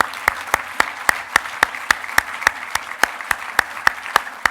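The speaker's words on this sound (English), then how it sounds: "a warm round of applause to our fantastic honorees" A small audience at a wine and food tourism awards ceremony claps in a slow, steady, rhythmic beat, about three claps per second, close and fairly loud, with no talking over it.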